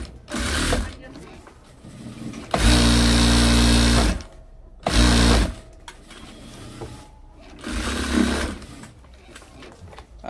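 A sewing machine stitches a shirt collar in a small garment workshop, running in several loud bursts of steady whirring separated by short pauses, with people talking in between.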